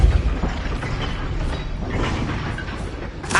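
A Depulso spell cast in the video game Hogwarts Legacy, heard as a dense mechanical whoosh with a rumbling burst at the start and a sharp flare at the end, loud and unaccompanied by talk.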